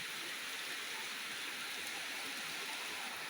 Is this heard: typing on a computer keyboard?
no